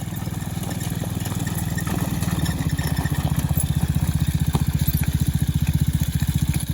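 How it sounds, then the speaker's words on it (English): A child rides a small battery-operated dirt bike, its motor giving a steady close whir with a rapid rhythmic clatter that rises slightly in pitch partway through, running continuously without speech. "little battery operated dirt bike"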